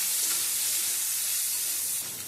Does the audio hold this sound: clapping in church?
no